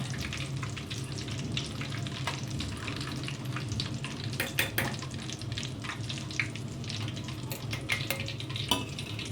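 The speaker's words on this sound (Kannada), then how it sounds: "ನೋಡಿ ತುಪ್ಪ ಆಗಿದೆ ಅಂತ ಈಗ ಆಫ್ ಮಾಡಿದ್ದೀನಿ ಅದು ಸ್ವಲ್ಪ ಅದ್ರದ್ದು ಇದೆಲ್ಲ ಹೋಗೋ ತನಕ ಆ ಥರ ಸೌಂಡ್ ಬರ್ತಾ ಇರುತ್ತೆ" Ghee sizzles in a pan as its remaining moisture cooks off, a dense, continuous frying crackle close by, peppered with sharper pops throughout.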